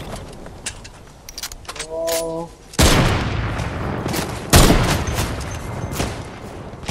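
Gunshots in Fortnite: a sharp loud crack followed by another blast a couple of seconds later, each trailing into noisy echo, after a short run of tonal chimes and small clicks, with players chatting over the game.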